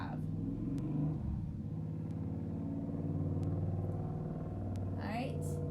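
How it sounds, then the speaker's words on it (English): Steady low engine rumble of a motorcycle passing nearby, continuous throughout, with a voice talking over it. "I'm trying to wait for that motorcycle to get, there we go."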